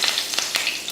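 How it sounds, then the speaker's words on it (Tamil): Mustard seeds, urad dal and curry leaves frying in hot oil give a bright, crackling sizzle with small pops, close up and continuous for about a second. "எண்ணெய் நல்லா காஞ்சதுமே கடுகு உளுந்து, கொஞ்சம் கருவேப்பிலை,"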